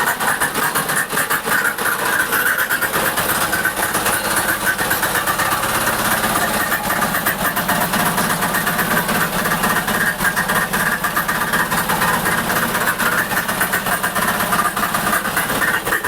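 A farm cultivator's small engine runs continuously and loudly up close, a steady mechanical drone with vibration that holds even throughout without pause.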